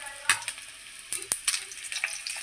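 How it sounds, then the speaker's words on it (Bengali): Bora fritters frying in oil give a soft crackling sizzle, broken by a few sharp clinks and scrapes as they are turned over in the pan, close up with no talk. "পাল্টাচ্ছি বড়াগুলো"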